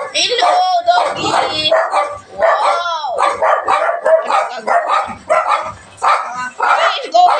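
A dog barks and yips repeatedly up close, with whimpering, howl-like cries and some overlapping human voices in a lively outdoor setting.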